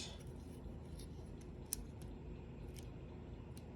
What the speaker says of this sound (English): Maybe we need to trim some of this excess.